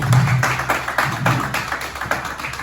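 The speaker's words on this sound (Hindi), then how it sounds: "स्वागत करिए तालियों से भाभी जी का" An audience welcomes a couple arriving from Jaipur at a pilgrims' gathering in Ayodhya with steady, moderately loud applause: a continuous patter of many hands, without talk over it.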